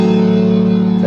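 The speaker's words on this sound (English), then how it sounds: "It's a diminished chord, essentially what's happening, which is a full diminished seventh chord." A piano holds a full diminished seventh chord as a single sustained, ringing sound, close and clear, with no talk.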